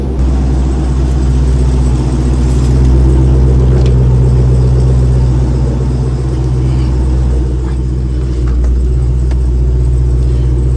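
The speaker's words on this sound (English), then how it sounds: "this is a 2016 Dodge Challenger Hellcat, 707 horsepower" A 2016 Dodge Challenger Hellcat with 707 horsepower idles in Las Vegas, its supercharged engine giving a loud, steady low rumble that swells slightly and stays constant throughout, with no talk over it.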